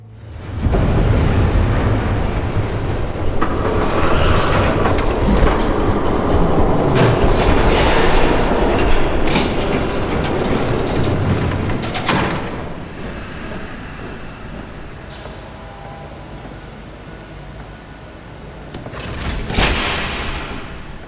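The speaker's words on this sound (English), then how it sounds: "There's a train coming. Take cover." An approaching train in the Batman: The Telltale Series video game, a loud, steady rumble with rattling and brief squeals that fades somewhat toward the end before a final surge; no talk.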